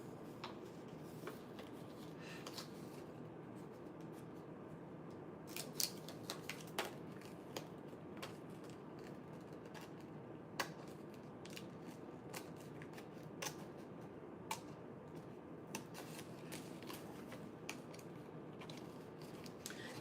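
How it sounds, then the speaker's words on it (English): Paper is cut carefully with scissors in a series of soft, close snips and crisp clicks, scattered irregularly over a low background hiss. "now I have to be really careful with how I cut this"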